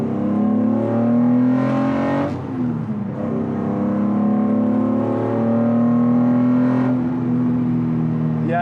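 A Datsun 240Z on a run alongside a wall, its engine revving hard and climbing through the gears with clear shifts between pulls, loud and close throughout with no voices.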